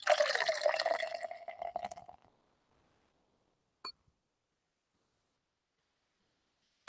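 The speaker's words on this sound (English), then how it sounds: "I'm going to pour myself another beer" Beer is poured into a glass, a bright fizzing, splashing stream lasting about two seconds, close and fairly quiet, followed by near silence with a couple of faint clicks.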